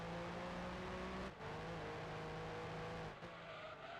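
A TVR sports car engine in the racing game Gran Turismo 2 drones loudly and steadily, with two brief dips as it shifts gear under hard braking and a downshift to first, and no voices.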